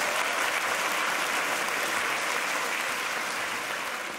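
An audience claps at an open-air comedy show, a thick steady wash of applause that tapers off slightly toward the end.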